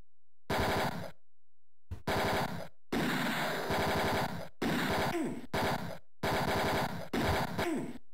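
Machine-gun fire in the cover-based shooter game Mean Streets, in several clipped bursts of rapid shots separated by short silences, loud and dense.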